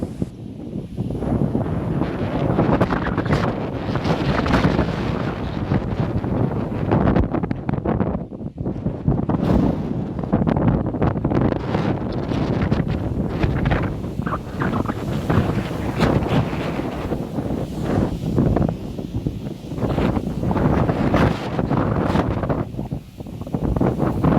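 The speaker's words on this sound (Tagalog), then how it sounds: "Kala mo signal number 4 sa lakas ng hangin." Strong gusting wind on a hilltop view deck in Bicol, Philippines buffets the microphone continuously, a loud rumbling roar with fluctuating intensity and no voices.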